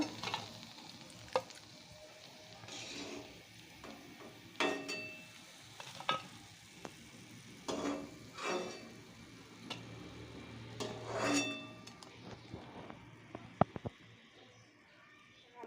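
Street-style bhaji fritters fry in hot oil with a soft, continuous sizzle, punctuated by faint stirring clicks and short bursts of louder bubbling.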